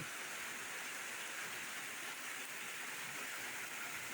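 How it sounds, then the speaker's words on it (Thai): Steady rain falls as a dense, even hiss without pause, soft and continuous with no voices. "ฝนตกแล้ว"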